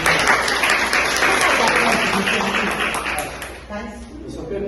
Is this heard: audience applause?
yes